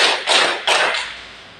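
A class joins a hand-clapping game at the start of a school lesson, two sharp group claps ringing out over a steady wash of room noise, close and fairly loud, with no talking.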